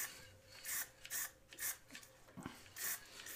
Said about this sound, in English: Now sand it up properly and gloss round.